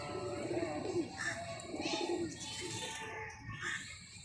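Pigeons coo softly and repeatedly in a loft, a low rolling call with faint bird chirps, under low background noise.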